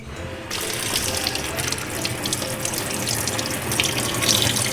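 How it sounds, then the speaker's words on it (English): Water from a kitchen sink tap gushes steadily to rinse fresh blueberries, a close, continuous splashing stream with no talk over it. "Okay, we're gonna rinse the blueberries off."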